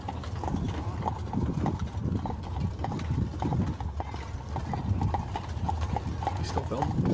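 Horse hooves clip-clop in a steady, close rhythm as a horse-drawn carriage rolls through Colonial Williamsburg, wheels and harness creaking underneath, with people talking over it.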